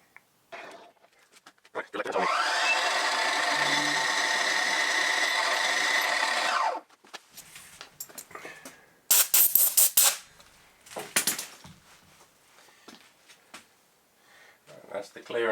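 A power drill bores a clearance hole in a carbide-tipped lathe tool in a workshop, its motor spinning up and running steadily for about four seconds before stopping, followed by scattered clattering handling noises and a few sharp bursts.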